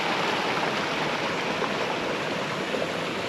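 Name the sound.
water flowing into a cave crater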